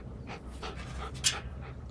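A dog pants rapidly and rhythmically close to the microphone, overheated on a hot day after chasing a neighbor's dog, quick breathy puffs continuing throughout.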